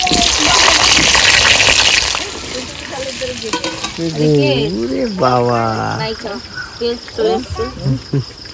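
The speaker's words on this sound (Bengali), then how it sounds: "তেল দিয়ে দেবো সর্ষের তেল আলুগুলো ভেজে নেবো" Large-cut potato chunks frying in mustard oil, a loud sizzle for the first couple of seconds that then drops under voices and singing-like vocal sounds.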